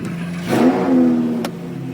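A Lamborghini Huracan Performante Spider with a naturally aspirated V10 gives a short sharp rev that rises and falls within a second, close and fairly loud against a low idle.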